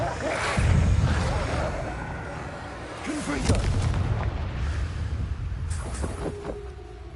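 Bombarda blasting spell cast in a video game, a deep rumbling boom swelling early and another burst midway, layered over a loud, dense wash of game noise.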